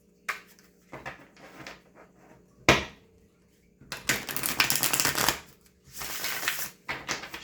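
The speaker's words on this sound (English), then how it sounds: "Shuffle this one because I don't think I pre-shuffled this deck." A deck of tarot cards being shuffled by hand in quick riffling bursts, close and crisp, with short pauses between the shuffles and longer stretches of dense card noise.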